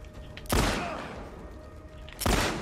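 Gunfire in The Last of Us Part II, two sharp loud shots about two seconds apart, each ringing out with a decaying echo, no talking.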